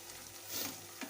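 Mushroom masala of onion, tomato and ginger garlic paste frying in a pan over a slow flame, a soft, quiet sizzle with a light stir near the end.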